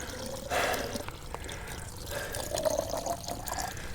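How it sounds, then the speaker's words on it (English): Water runs and trickles into a mountain water trough on an alpine trail near the Surenen Pass, a faint, continuous splashing with brief louder gushes set against quiet open air. "My God, this is a welcome sight, this water trough"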